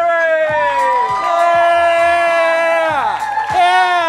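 A comedy show's studio audience cheers and whoops for the host, with loud crowd yelling and shouts throughout.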